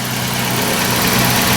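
A 1994 Toyota T100 DX pickup's V6 engine runs at a steady idle with its factory airbox, a continuous low drone with even vibration, close and fairly loud, no voices.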